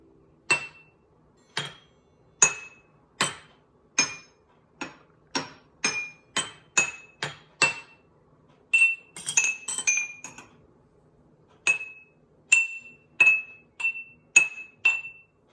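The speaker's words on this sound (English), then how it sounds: "So now I'm going to start playing my xylophone" Glasses of water are struck one at a time with a mallet, bright ringing tones in a steady series with a quick cluster of taps midway.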